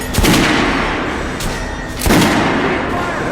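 Gunfire on a shooting range in the game Metro Last Light, two loud close shots each ringing out with a long booming tail, no talking.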